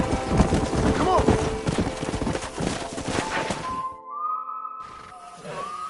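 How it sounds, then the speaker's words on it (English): Horse hooves clip-clop in the Red Dead Redemption video game, a steady rhythmic patter for the first four seconds amid dense game sound, followed by quieter ambience with tonal music. "We got some fine horses."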